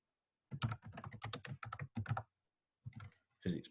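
Keys clatter on a computer keyboard as a homework title is typed in, quick bursts of clicks with a short pause, then a few more keystrokes near the end.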